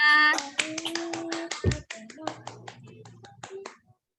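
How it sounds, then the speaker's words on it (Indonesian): A class of students in an Indonesian classroom clapping their hands after singing: scattered, crisp individual claps, brief and uneven, thinning out and stopping within a few seconds, with voices at the start. "tepuk tangan untuk kita semua"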